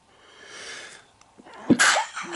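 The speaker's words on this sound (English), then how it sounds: "I think I got a sneeze." A single sharp sneeze, close and loud, follows a few quiet breathy seconds and is then cut short.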